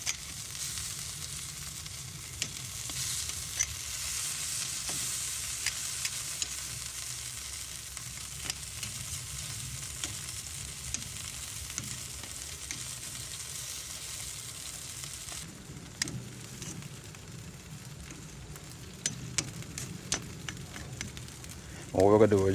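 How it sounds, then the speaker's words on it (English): Gnocchi searing in a hot pan as they are turned, a steady close sizzle running throughout with small clinks and scrapes, and a voice talking quietly over it. "we're just going to turn them so we get that nice little sear on both sides of them"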